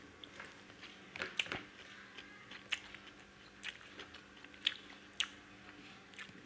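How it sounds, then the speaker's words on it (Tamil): Someone bites into raw onion while eating a roadside beef seekh kebab, with soft crisp crunches and chewing close to the microphone at irregular intervals over quiet street background. "அப்புறம் வெங்காயம் கடிச்சிக்கணும்."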